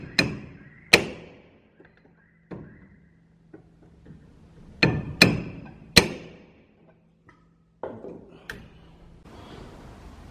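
Hammer blows against a front suspension part of a BMW E30, sharp metallic strikes spaced irregularly, some in quick pairs, loud and close with ringing decay between them.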